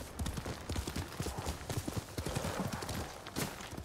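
Steady hoofbeats of a horse in the video game Ghost of Tsushima clip-clop at a trotting rhythm, close and clear, over a faint background hum.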